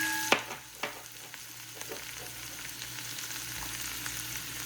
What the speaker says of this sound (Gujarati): મિક્સ લસણ થોડુંક શેકાવા દઈએ